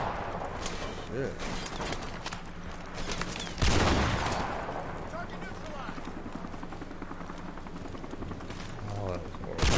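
Video game battlefield sound of a friendly helicopter arriving amid gunfire, with rotor chop and scattered shots under a continuous low rumble and one loud blast midway; voices talk over parts of it.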